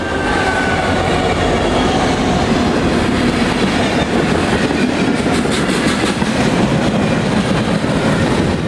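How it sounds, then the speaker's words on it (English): A Western Pacific steel train on the Sacramento Northern detour rolls east through Antioch toward Stockton, a loud continuous roar of wheels with rhythmic clickety-clack over rail joints. "Western Pacific's Sacramento Northern Detour steel train makes its way east through Antioch heading back to"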